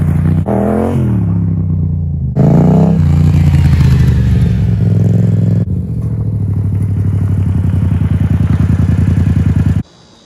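An off-road Yamaha FZ-07 motorcycle engine revs hard and loud up close, with several rising and falling throttle blips over a rough idle before cutting off abruptly.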